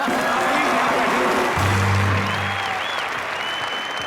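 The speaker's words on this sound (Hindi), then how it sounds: "एक बार शाहिद भाई के लिए जोरदार तालियां।" Loud studio audience applause on a comedy talk show, dense clapping from the start that thins slightly toward the end, a short low musical sting sounding briefly beneath it.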